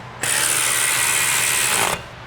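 A ratchet with a 10mm socket working on S550/650 Mustang suspension, giving one continuous rapid clicking burst of nearly two seconds, close and loud, with no talk.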